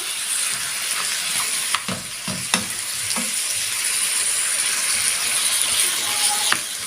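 Samosa filling with onion stirred in a sizzling pan, a constant loud frying hiss with scattered scrapes and taps of the spoon against the pan, close up and with no talking.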